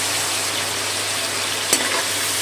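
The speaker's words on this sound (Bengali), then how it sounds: "খুব বেশি কড়া করে ভাজবো না, শুধু একটু তেলে নেওয়া নেবো।" Shrimp lightly frying in oil for a bottle gourd and shrimp curry, a steady, fairly loud hiss of sizzling with a single sharp click near the end.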